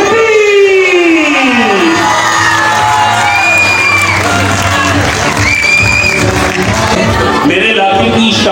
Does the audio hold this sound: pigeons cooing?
no